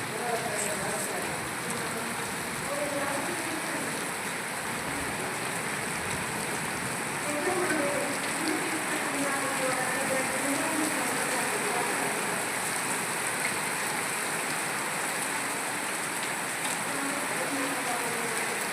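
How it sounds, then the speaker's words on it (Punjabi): Heavy rain with hail pours steadily onto surfaces in a dense, constant hiss, with faint voices murmuring underneath. "ਮੀਂਹ ਦੇਖੋ ਆਈ ਜਾਂਦਾ ਗੜੇ ਆਈ ਵੇਖੋ ਗੜੇ"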